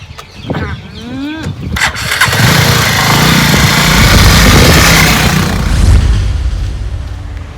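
A motorcycle engine cranks and catches, its loud revving roar filling the scene after a few sharp starter sounds, with a voice speaking briefly at the start.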